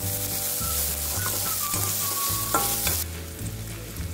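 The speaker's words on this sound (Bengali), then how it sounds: "দিয়ে দিচ্ছি পেঁয়াজ কুচি পেঁয়াজটাকেও ভালো করে ফ্রাই করে নিচ্ছি" Chopped onions sizzle and crackle in hot oil for lentil dal, with a utensil stirring and scraping the pan in a steady rhythm, close and fairly loud throughout.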